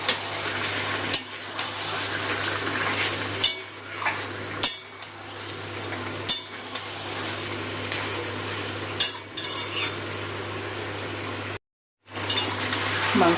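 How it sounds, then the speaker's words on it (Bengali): Chicken meat fries in hot oil over high gas for a roasted onion chicken, giving a steady sizzle. Regular knocks of a spoon stirring against the pan break through it, and a brief silence falls near the end. "গ্যাসটা বাড়িয়েই মাংসটা ভালো করে কষিয়ে নিতে হবে। তেলের মধ্যে একটু ভাজা ভাজা করে কষিয়ে নেব।"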